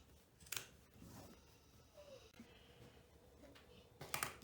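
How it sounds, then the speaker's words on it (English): Scissors cut away excess fabric from a handmade lampshade, giving a few quiet, close snips spread across a faint, hushed background, with a firmer pair of cuts at the end. "So now we're going to cut off all the excess fabric."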